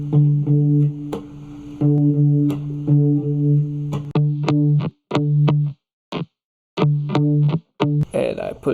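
Electric guitar with a shimmering chorus effect plays a chord riff, strummed in bursts with short gaps and stops, fairly loud and alone.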